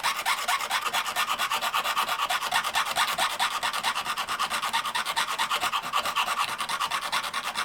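Small needle files rasp rhythmically back and forth across a silver pendant at a steady, quick tempo. The scraping is close and continuous, with no talking.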